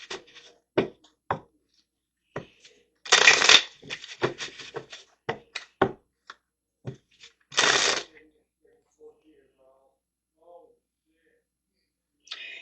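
Tarot cards shuffled in short bursts during a reading, crisp riffling snaps and taps scattered between pauses, with two longer loud riffles, close and clear.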